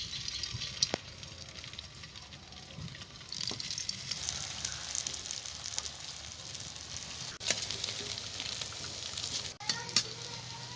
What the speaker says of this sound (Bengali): এবার আমি আলুর টিকিগুলোকে ভেজে নেব।